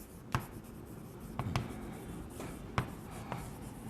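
Marker or chalk writing on a board during a physics lesson about lenses: scattered short scratchy strokes and taps, quiet and close, separated by soft pauses, with no talk over them.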